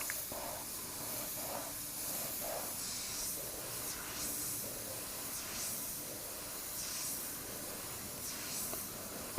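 An Iwata side-feed airbrush hisses in a faint, steady spray, with soft pulses and airy swells as the trigger is worked at low pressure, alone and close.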